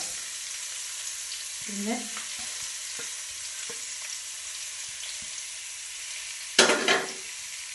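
Onions and green chillies sizzle steadily in a pan while a spoon stirs them in a few scrapes, ending in a louder clattering stir; a brief word is spoken faintly.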